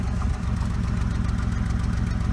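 An Oldsmobile Ciera engine idles roughly with a steady low rumble and uneven pulsing beats, one stronger knock near the start, running alone without talk.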